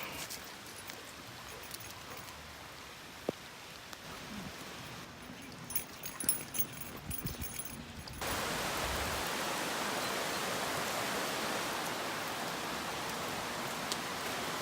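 Rain falls steadily on the Black Forest Trail, a forest loop trail in Pennsylvania. Soft hiss and scattered close rustles and knocks give way to a louder, even wash of rainfall that holds to the end.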